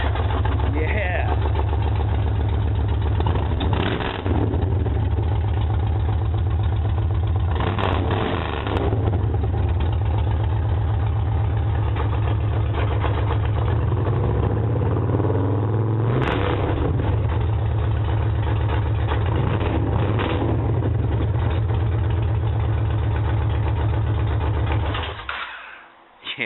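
A 2004 Yamaha Warrior ATV engine runs steadily at idle with a low, rumbling drone and occasional slight rises in revs, close by and continuous for the whole stretch, with people talking over it.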